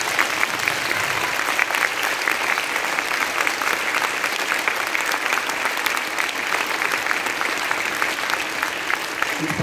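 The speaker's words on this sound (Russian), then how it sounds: "Поэтому давайте искупаем их аплодисментами." An audience at an anniversary concert honoring a music teacher breaks into sustained, even applause from many hands, a dense, unbroken crackle that stays at a constant level for nearly ten seconds.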